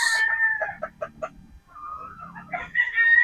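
Sweater Boston gamefowl pullets cluck in a series of short, close calls, with a rooster crowing briefly at the start and end.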